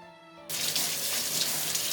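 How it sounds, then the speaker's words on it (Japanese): Tap water gushes steadily into a sink as sweet potatoes are scrubbed clean, the stream starting abruptly and running on as a close, broadband splash with no talk. "まずはさつまいもをよく洗います。"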